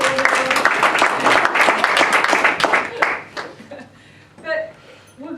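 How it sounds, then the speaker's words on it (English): A round of applause for actors after a talk, many hands clapping loudly and evenly for about three seconds before dying away, followed by brief voices and a chuckle. "Give them a round of applause"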